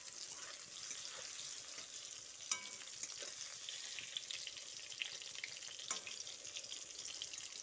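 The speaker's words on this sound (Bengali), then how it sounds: "এভাবে নাড়াচাড়া দিয়ে বেগুনটাকে বাদামি করে ভেজে নেব।" Eggplant pieces sizzle in oil while being turned and stirred, a soft, steady crackle with occasional sharper clicks of the utensil, quiet and with no one talking.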